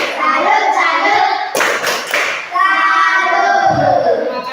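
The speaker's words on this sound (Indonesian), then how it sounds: "Tepuk salut." Schoolchildren in a classroom in Merauke perform the 'tepuk salut' clapping cheer: a short flurry of rhythmic hand claps in the middle, set among loud, sustained sing-song group chanting by young voices, close and lively.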